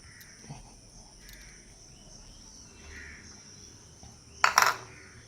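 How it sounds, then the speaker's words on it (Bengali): A crow cawing outdoors, a sharp loud call near the end against quiet ambience with insects chirping faintly and a few small knocks earlier. "কাকের জন্য একটু খাবার নিয়ে যাই, চলো।"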